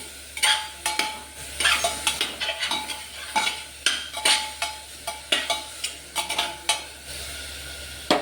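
A spoon scrapes rhythmically and steadily through chopped tomatoes and carrots in a pot of chicken soup, close up, over a light sizzle.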